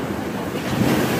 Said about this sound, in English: the winds have now just picked up, so now we got microburst action